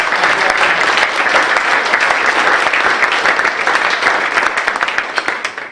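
An audience at a business launch event applauds loudly and steadily, a dense sustained wave of clapping that thins toward the end.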